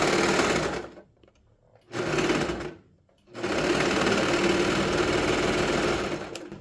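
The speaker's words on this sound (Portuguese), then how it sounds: "E vem costurando, olha." A sewing machine stitches the edge of a dog sweater in three runs of steady whirring, each stopping briefly before starting again, loud and close with no talk.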